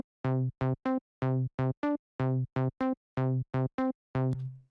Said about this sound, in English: Literally, it's the default wavetable in Serum